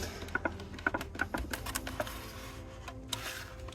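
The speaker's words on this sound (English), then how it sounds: "I am going to take my knife and I'm going to cut this out of the package." A knife slices a Hot Wheels treasure hunt car out of its plastic blister package, giving a run of quick, sharp clicks and crackles up close that fade into a quieter rustle.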